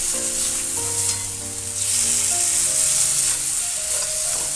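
Eggplant and spices fry steadily in a pan for a Bengali baingan bharta, a loud continuous sizzle with background music playing over it and no talking.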